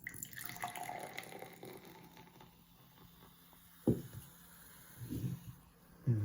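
Fizzy drinks are poured into glasses, a soft running trickle and fizz followed by a few light clinks and splashes, quiet and close.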